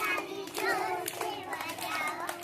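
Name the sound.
children clapping hands loudly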